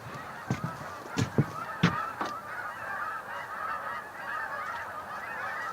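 Waterfowl flying in to a lake at dusk: a handful of loud, sharp honking calls up close at the start, then a continuous chorus of distant chattering calls.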